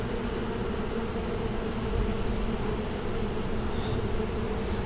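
Bees swarm inside the hollow of an old, unhealthy oak tree, making a steady, dense buzzing drone that holds at an even level throughout, close and continuous with no voices.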